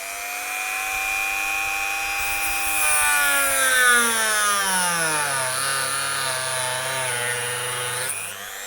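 A Draper rotary tool fitted with a cutting disc whines loudly up close, its pitch sliding steadily downward as it spins down before cutting off near the end.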